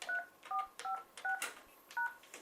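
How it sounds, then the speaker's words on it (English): Touch-tone keypad beeps from a Snom 821 desk phone as a voicemail PIN is entered, about six short dual-tone presses at an uneven pace, fairly quiet, with no talking. "Please enter your PIN number followed by the hash key"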